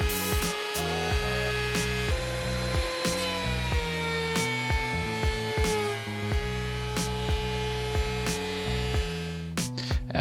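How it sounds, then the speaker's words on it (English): Lumber being run through a jointer and planer, a steady loud machine whine with a sustained tone, broken by repeated sharper cutting bursts as boards feed through, close and alone without voices. "I decided to mill all these down and jointed each one, and then I planed each to 3x3"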